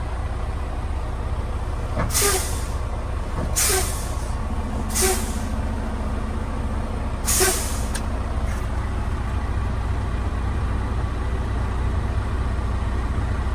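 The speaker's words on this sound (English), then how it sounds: "we will fan down our brakes to 100 and then stay at idle to check the cut in" Truck air brakes being fanned down toward 100 psi during a Massachusetts air brake test: four sharp hissing bursts of released air over a steady idling diesel engine, spaced a couple of seconds apart, then continuous idle.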